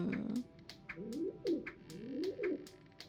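A carrier pigeon coos in the video game Anna's Quest, giving a run of soft, rolling low coos, roughly five or six phrases in steady rhythm, close and clear with no talking over them.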